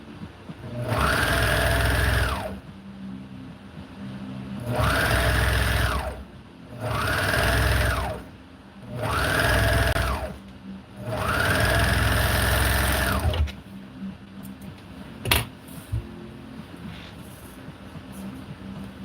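A sewing machine stitches chiffon for a DIY duster, running in five steady loud bursts with short pauses between them, then falling quiet with faint handling noises.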